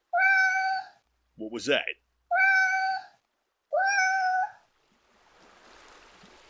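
A cat meows three times, each call drawn-out and clear at close range, with a short spoken question between the second and third calls and a faint hiss of noise after them.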